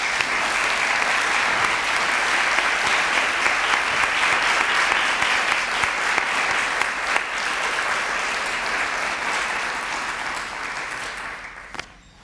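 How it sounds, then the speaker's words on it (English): A standing audience at a county detention health improvement presentation gives a long, full round of applause, dense and even for about eleven seconds before tapering off quickly with a last few claps. "So if you could stand and we could give them a round of applause,"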